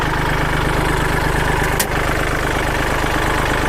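A used 2011 Kubota L3608 tractor engine idling steadily up close, a loud, even diesel throb with a continuous low rumble and one brief click midway.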